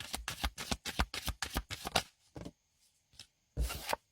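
A deck of tarot cards being shuffled: a quick run of crisp riffling slaps, a pause with a few soft taps, then another short burst of shuffling, close and clear.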